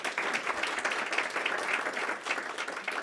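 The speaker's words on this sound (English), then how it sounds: "Let's give them another round of applause" An audience at a live event gives a round of applause, a soft, fairly distant wash of many hands clapping evenly for a few seconds.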